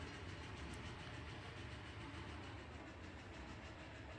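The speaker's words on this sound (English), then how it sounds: "The truck racing the train." A train running on rails in the video game Captain of Industry, a faint, continuous rumbling roll with soft rhythmic clatter and no pauses.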